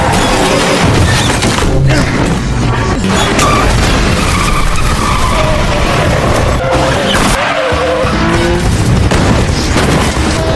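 A loud, dense car chase scene from the 2005 film Mr. & Mrs. Smith, with tires skidding and squealing as a car swerves wildly, heavy engine roar, and crashing booms throughout.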